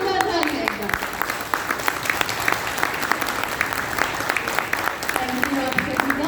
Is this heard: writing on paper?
no